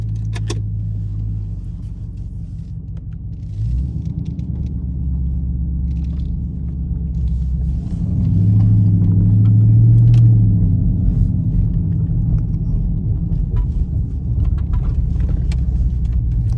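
Steady low engine rumble inside a moving car, with faint intermittent clinks and rattles of loose tools over the road noise.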